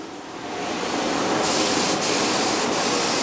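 A Greco HVLP 9.5 paint sprayer blasts a steady, loud hiss of atomized water-based paint in a small workshop, the airflow swelling and holding with brief flickers near the end.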